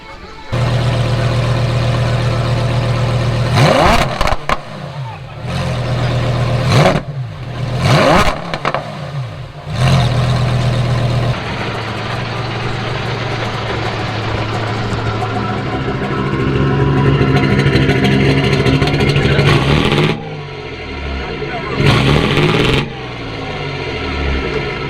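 A tank's heavy engine cranks over in several sputtering attempts, catches, then settles into a loud rumbling idle that revs up and down at a car show.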